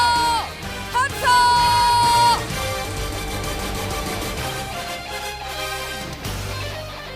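A large crowd at a Gwangju volunteer rally shouts and cheers loudly and steadily for several seconds, mixed with music and whistle-like tones.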